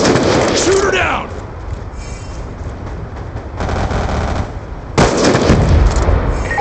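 Rapid automatic gunfire in Black Ops II, loud bursts of firing that break off and resume, with game voices calling out over the shooting.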